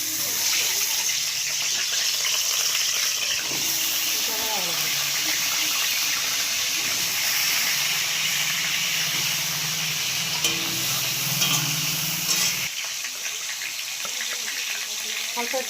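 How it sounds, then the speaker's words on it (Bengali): Potatoes frying in a pan of hot oil, a loud, continuous hiss and crackle that fills the whole stretch, with faint talking in the background. "তো সবার আগে আলুটা ভেজে নিই।"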